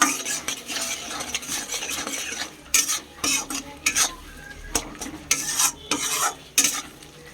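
Spoon scraping and stirring powdered salt, turmeric, chili and cumin into tilapia curry with cauliflower and potato in a pan, rhythmic metallic scrapes and clinks over a low sizzle, close and alone.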